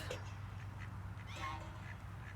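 Domestic ducks shuffle and quack faintly as they move away from Polish geese, brief soft calls over a steady low outdoor hum, fairly distant.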